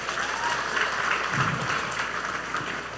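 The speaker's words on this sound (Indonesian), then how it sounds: "tepuk tangan itu" An audience applauds at a formal religious gathering, a steady, moderately distant wash of many hands clapping with no pauses.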